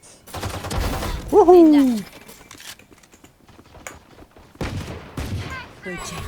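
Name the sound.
gunshots in the video game Valorant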